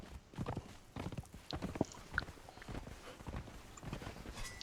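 A horse's hooves walking at a steady clip-clop pace in the Conan Exiles game, moderately close and fairly quiet, with no talking over them.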